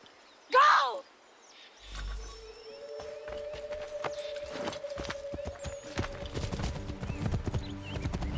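In a video game, Assassin's Creed III, a horse neighs briefly, then hooves clip-clop in a steady rhythm over outdoor ambience with a low hum and scattered clatter.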